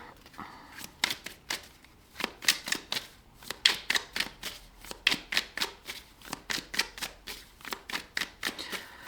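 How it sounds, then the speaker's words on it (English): Oracle cards are shuffled close up in a series of quick riffling bursts, with brief pauses between the flurries of soft paper slaps. There is no talking. "Let's pull an Oracle card."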